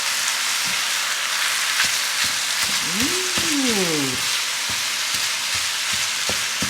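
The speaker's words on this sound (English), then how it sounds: "Chop and then mix up, you know? And this is ground chicken, remember, it's not the beef." Ground chicken sizzles steadily in a hot pan for a chopped cheese sandwich, with a continuous loud frying hiss and repeated sharp spatula taps and scrapes as the meat is chopped and mixed, plus a brief squeaky scrape in the middle.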